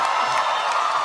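A loud crowd at a political rally in Cleveland, Ohio cheers and applauds, a dense wash of clapping and whoops filling the short moment.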